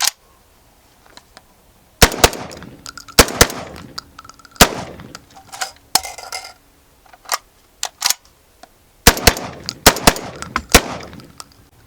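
A Citadel Boss 25 magazine-fed shotgun fires Winchester Super Sporting Clays target loads, loud close blasts coming singly and in quick bursts with quiet gaps between strings.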